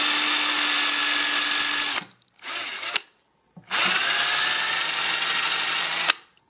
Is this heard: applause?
no